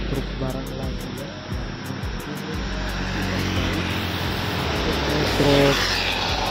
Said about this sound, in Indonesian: Itu ada truk barang lagi ya